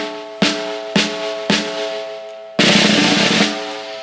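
A snare drum after side head tuning, struck three times in an even rhythm with a ringing, ringing-overtone tail on each hit, followed by a louder sustained roll or buzz that fades near the end.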